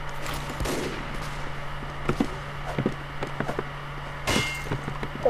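Gunfire from the online shooter Team Fortress 2, a run of sharp bursts and scattered shots over a steady game hum, with louder cracks near the start and end and no talking.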